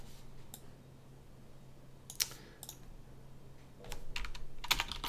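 Short, quiet bursts of typing on a computer keyboard, scattered clicks separated by pauses and then a denser flurry of keystrokes at the end, close by with no talking.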